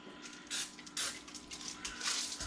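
Several short hissing bursts of a spray bottle spraying a chicken for smoking, one after another at uneven intervals, close by with no talking.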